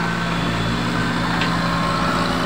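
An engine runs steadily at close range, a continuous low droning hum with no breaks over the short stretch.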